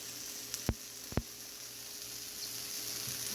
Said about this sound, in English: I'm cooking on a cast iron griddle, and I don't have hardly any oil on this